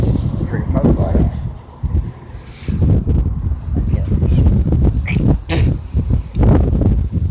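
Strong gusts of wind batter the microphone beside an outdoor motel pool, a loud, uneven rumbling roar that rises and falls under close talking.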